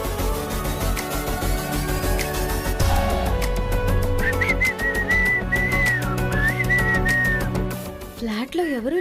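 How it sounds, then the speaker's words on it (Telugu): Whistling drifts through an empty flat: a wavering whistled tune rises and dips for several seconds over steady background music, fairly clear and continuous. "విజిల్ సౌండ్ ఎక్కడి నుంచి వస్తుంది?"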